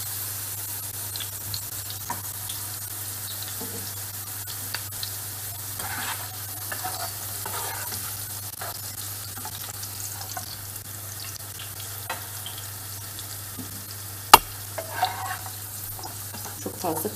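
Sliced carrots fry in oil in a pan, giving a steady soft sizzle broken by occasional stirring scrapes and one sharp clatter, with no voices.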